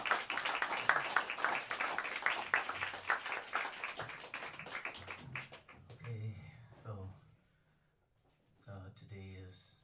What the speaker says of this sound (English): give a warm round of applause for the great Sullivan Fortner on the piano